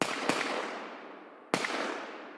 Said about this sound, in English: The loud sound of gunshots echoed through the street